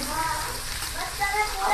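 Cauliflower and potato sautéing in a pan, a steady close sizzle and crackle of frying with soft stirring, continuous across the moment.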